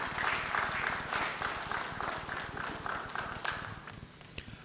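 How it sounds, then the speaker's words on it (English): A conference audience gives a round of applause for a presenter, dense steady clapping from many hands that stays fairly loud and slowly thins out toward the end. "Let's give him a round of applause."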